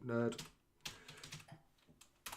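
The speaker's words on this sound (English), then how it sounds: "So I'm typing on a Word document now" Typing on a computer keyboard into a word-processing document, heard as a run of quick clicks that blend with a person talking over them.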